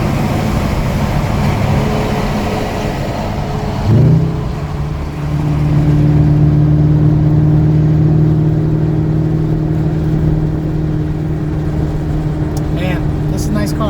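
A 2015-2017 Ford Mustang, a built car with boost, revs its engine inside a tunnel: a sharp rise in revs about four seconds in, then a loud, steady drone that echoes, with talk over it.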